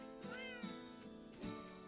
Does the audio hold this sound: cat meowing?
yes